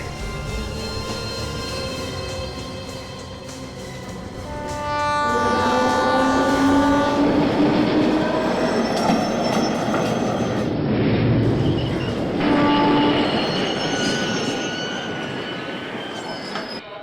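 A train pulls into a railway station, its carriages rumbling and clattering loudly with sustained metallic wheel squeals and rising tones, the noise swelling midway and staying close throughout.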